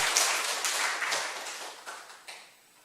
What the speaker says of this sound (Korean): 우리 아버지 하나님께 영광 박수 한번 드리겠습니다.